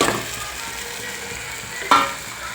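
Prawns fry in a curry as a spoon stirs them slowly, a soft continuous sizzle with one sharp scrape near the end.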